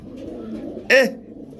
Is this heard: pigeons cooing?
yes